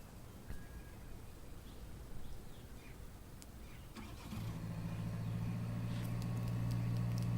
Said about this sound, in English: vehicle just started its engine, making a noise